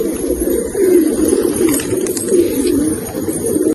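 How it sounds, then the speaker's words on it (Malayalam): Pigeons coo in a loft, a close, continuous rolling murmur of low calls with a few faint rustles and clicks of movement. "രണ്ട് പ്രാവുകൾ ഇറങ്ങിയിട്ടുണ്ട്"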